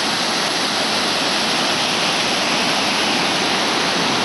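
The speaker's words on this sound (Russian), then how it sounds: "Вот оно, верховье водопада Ореховского." Water cascading over the upper part of the Orekhovsky waterfall, a loud, steady, dense roar of rushing water close by, unbroken throughout with no voices.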